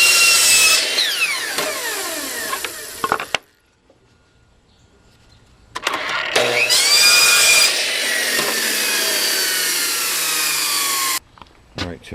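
A power saw blade rips through a wooden board for a DIY bird feeder, loud whining cuts with rising and falling pitch, pausing into near silence midway before a long second cut that runs on steadily, then stops.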